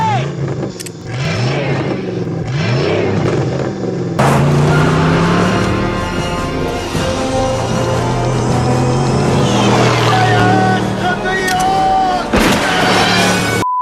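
A DeLorean fitted with a Porsche 928 V8 in place of its PRV6 revs and accelerates in a GTA V mod, loud engine tones rising and falling through gear changes, with voices talking over parts of it.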